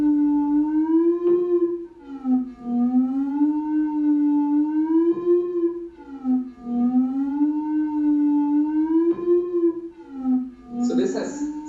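A synthesized melody with portamento slides smoothly up and down between its notes in a steady, wavering tone, loud and sustained, with a brief noisy burst at the end.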